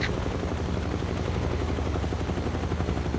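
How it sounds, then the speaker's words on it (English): Huey helicopter flying low over jungle in Microsoft Flight Simulator, a loud continuous rotor chop and engine whine, steady and close, with no voices. "The Huey is just such a versatile helicopter, especially flying in the jungle like we are today."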